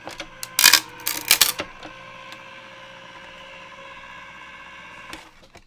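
An electric die cutting machine feeding a sheet of Yupo through, with a burst of rattling clacks and whirring near the start, then a steady low motor hum fading to a faint click near the end.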